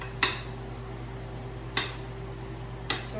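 Mayonnaise being mixed into chiles rellenos filling in a bowl: three separate sharp clinks of a utensil against the bowl, spaced about a second apart, over a steady low hum.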